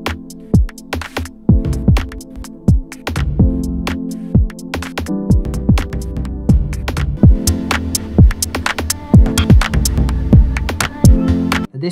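A modular synth beat with punchy, booming kicks and sharp percussive hits over sustained tones, all washed in a long, heavy reverb tail.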